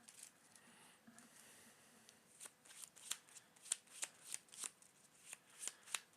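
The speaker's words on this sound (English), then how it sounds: "We'll shuffle those 3 in." Cards for the Marvel Champions card game are riffle-shuffled several times in quick succession, each riffle a crisp burst of flicking paper, growing louder and more regular toward the end, with no talking.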